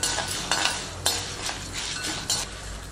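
Spices fry on a low flame in a pan for tomato chutney, a soft steady sizzle broken by a few sharp metal clinks as a spoon stirs and scrapes, with no voices.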